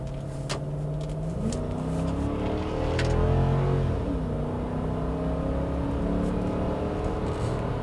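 A 2003-2009 Lexus GX 470 SUV's V8 pulls hard on the road, engine pitch climbing, dropping at a shift and climbing again in a steady, fairly loud drone from inside the cabin.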